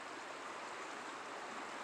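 A woodland stream flows steadily, a continuous broad rushing wash of water with no breaks, moderately quiet and even throughout.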